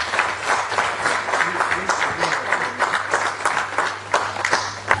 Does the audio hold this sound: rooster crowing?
no